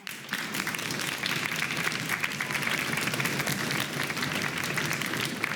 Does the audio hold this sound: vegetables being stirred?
no